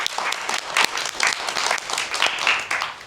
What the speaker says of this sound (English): Let's give her a round of applause for her blind loyalty.